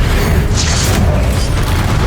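A Confringo spell blast in Hogwarts Legacy makes a loud, dense booming burst with a rumbling low end and a whooshing crackle on top, filling the whole short moment with no voices.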